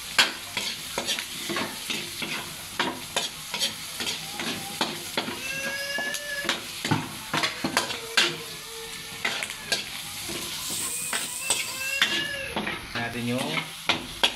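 Onions fry and get stirred in a pan while cooking Bicol Express, a steady sizzle broken by repeated scraping strokes of the spoon, close and fairly loud throughout.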